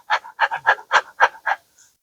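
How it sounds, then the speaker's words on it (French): A dog pants in quick, jerky breaths, about seven sharp rhythmic puffs in two seconds, close and fairly quiet with no other sound around it. "Le chien a une respiration saccadée."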